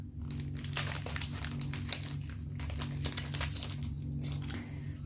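Thin nail transfer foil crinkles and rustles continuously up close as it is handled and crumpled, with a steady low hum underneath.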